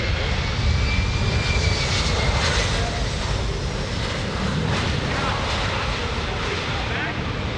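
A loud, steady roar of a C-17 Globemaster III jet transport's engines fills the scene during a flying demonstration at EAA AirVenture 2018, a broad rumbling drone that holds constant throughout.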